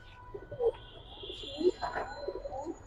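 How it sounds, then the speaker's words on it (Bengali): Giribaz pigeons at a market give soft, low coos in short repeated bursts, close by and fairly quiet, with faint background noise between the calls. "নটটা খুব ভালো ডাকে।"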